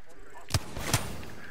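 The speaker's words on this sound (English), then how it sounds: "He hit me with a Kraber." Two heavy, booming shots from a Kraber sniper rifle in a battle royale shooter, about half a second apart, each a sharp deep crack with a short tail over a steady game background.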